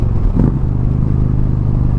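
Indian Chieftain Dark Horse 125th Anniversary Edition motorcycle rolling on the throttle in sixth gear, a steady close engine drone with a brief rising surge early on over constant road rumble.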